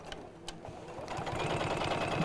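Domestic sewing machine running steady trapunto quilting stitches around a padded shape, a continuous rapid mechanical whir with a few brief pauses at the start before settling into an even, close, moderately quiet hum.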